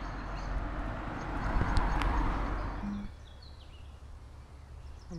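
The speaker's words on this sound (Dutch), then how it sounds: "Allemaal paardjes in de wei." Horses graze in a meadow near a camper site on a fine day, with soft distant hoof and movement sounds over a quiet outdoor background and faint bird chirps.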